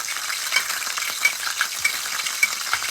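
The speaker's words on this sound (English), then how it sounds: "sauteing is about that because the oil is actually jumping out of the pan a little bit" Chicken sautéing in hot oil in a pan sizzles steadily, with sharp little pops and crackles of splattering oil throughout and no voices.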